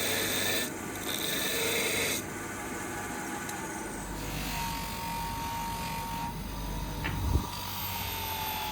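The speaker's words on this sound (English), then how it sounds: "Don't forget to buff the outer rim." A metal katana tsuba is buffed with polishing compound, giving a loud, continuous rasping whir close to the mic, with brief pauses and a sharp knock near the end.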